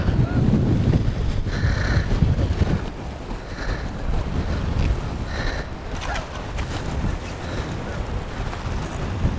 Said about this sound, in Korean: 아 바람이 많이 붑니다